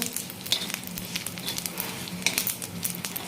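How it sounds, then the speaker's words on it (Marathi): Whole spices dry-roasting in a pan for a rural-style spicy black chicken curry, giving a soft steady crackle and sizzle with a few sharper pops, close and fairly quiet, with no talking. "आता एक खडे मसाले आहेत ते भाजून घ्यायचे काही सेकंद फक्त"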